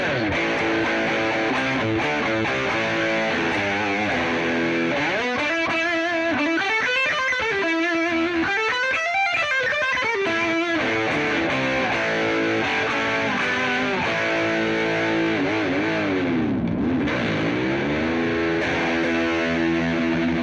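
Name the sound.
electric guitar humbucker bridge pickup with distortion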